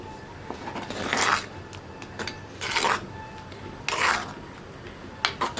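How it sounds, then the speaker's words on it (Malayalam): A spoon scrapes through a thick Kerala-style spinach curry in a pan, in about four distinct rasping strokes spaced a second or so apart, with quiet clinks between them. "കൈയെടുക്കാതെ ഇളക്കിക്കൊണ്ടിരിക്കുക"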